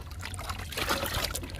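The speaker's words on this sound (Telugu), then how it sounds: "ఈ బకెట్లో 2 పోస్తున్నాను" Neem leaf liquid pours into a bucket for watering garden plants, making a steady close splashing trickle that runs without a break, with no talking.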